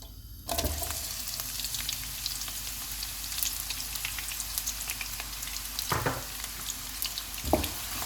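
Onions for mutton shorba hiss and crackle steadily in hot oil, a continuous close sizzle with a couple of brief louder bursts as the pan is disturbed.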